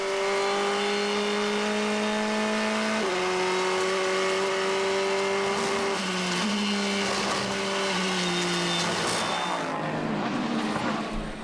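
A race car engine at a WEC endurance race drones loud and steady, its pitch stepping down at each gear change and ending in a fading roar.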